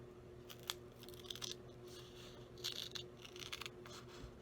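Cardstock pieces are sliced for a handmade card, giving faint, close crisp cutting and crinkling strokes in short irregular bursts against a quiet room, with no talking.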